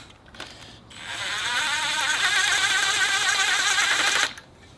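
A ratchet runs down small coolant crossover bolts on a Subaru EJ207 engine with a fast, continuous whirring buzz of about three seconds, loud and close, then stops abruptly.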